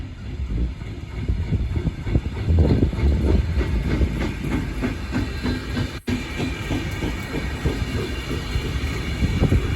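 A Catalunya Express passenger train from Zaragoza to Barcelona rolls past at a rail festival in Móra la Nova, with a steady loud rumble, wheel clatter and hiss, close and continuous.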